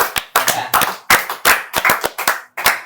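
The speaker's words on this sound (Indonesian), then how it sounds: "Tepuk tangan dulu lah." An audience claps hands in sharp, loud, close bursts, about a dozen separate claps in an uneven rhythm with short silent gaps between them. No talking.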